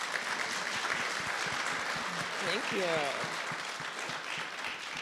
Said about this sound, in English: Could we just get a round of applause for these ladies?